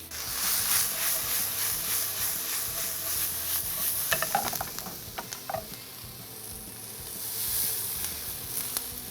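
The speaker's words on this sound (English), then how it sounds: "And then about 1 more minute here on the saute and we'll be ready to add this to our steeping liquid." Chilies and garlic sauté in a pan with a soft, steady sizzle. Quick clinks and scrapes of stirring break through near the middle, and no one speaks.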